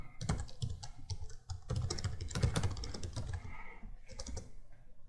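Commands are typed on a computer keyboard while setting up a Plex server. Quick, irregular key clicks come close and clear in bursts, with brief pauses and no talking.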